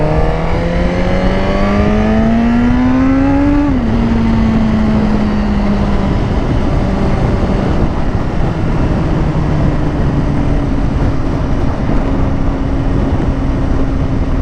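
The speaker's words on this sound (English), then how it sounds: "My bike is not fully warmed up yet." A Suzuki GSX-R motorcycle engine warming up on a cold morning revs loudly and close, pitch climbing steadily then dropping back to a rough, rumbling idle that holds on without any talking.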